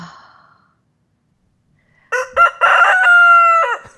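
A rooster crows once, close and loud: a few short opening notes, then a long sustained cock-a-doodle-doo. A brief soft sound comes first, followed by about two seconds of quiet.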